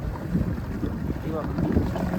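Wind blowing at sea aboard a deep-sea fishing boat. A steady, loud rushing buffet hits the microphone, mixed with low engine and water rumble, continuous throughout.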